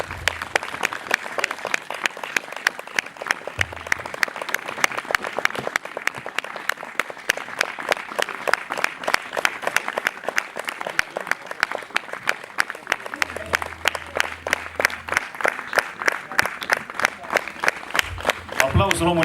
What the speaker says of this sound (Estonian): Aplaus loomulikult perenaisele